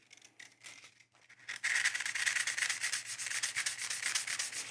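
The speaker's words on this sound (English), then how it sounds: "we're going to go back with the sandpaper" Sandpaper rubs back and forth over darkened veg tan leather. The strokes are soft and sparse at first, then become a steady, loud, rapid scratching close by, with no voices.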